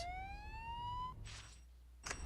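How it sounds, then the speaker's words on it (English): An ambulance siren wails in a rising sweep in the Spider-Man 2 video game, faint and distant at first, followed by two brief bursts of noise. "It sounds like an ambulance is coming."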